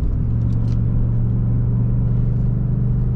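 A truck engine drones steadily and loudly close by as it passes, a continuous low rumble with a constant hum that never fades across the few seconds.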